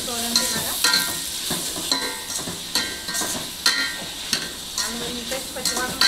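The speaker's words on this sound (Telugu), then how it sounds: "అల్లం వెల్లుల్లి పేస్ట్ పచ్చివాసన పోయేవరకు మగ్గించుకోవాలి." Ginger garlic paste fries and sizzles in a pan with steady oil crackle, overlaid by repeated scraping stir strokes of a spoon, fairly close and continuous with no talk.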